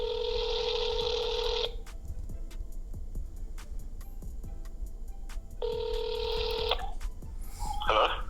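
A phone call placed through the Talk360 calling app: two bursts of steady electronic ringback tone, each about a second and a half, separated by a long quiet gap, with faint clicks and a voice starting at the very end.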